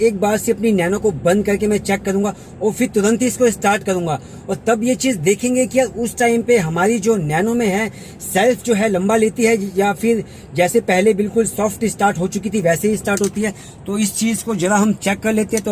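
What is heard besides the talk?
No everyday noises stand out.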